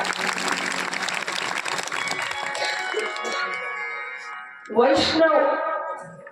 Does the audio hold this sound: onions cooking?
no